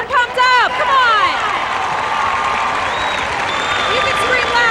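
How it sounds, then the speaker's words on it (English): Crowd applause at a high school all-star football game swells after a few loud shouted voices at the start, then continues as a steady roar of clapping and cheering. "Come on, guys, give him a round of applause."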